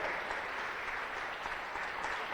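A church congregation claps together in a dense, sustained burst of applause that stays even and fairly close for its full length, with no voices rising above it.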